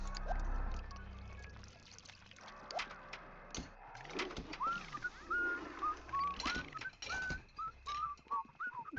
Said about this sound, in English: I love that layered whistling.